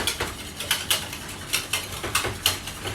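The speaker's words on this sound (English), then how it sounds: "to gently whisk these up" Two eggs being gently whisked for cheese scones, a fast, steady rhythm of light ticking taps of a whisk against a bowl, close and fairly loud, with no voices.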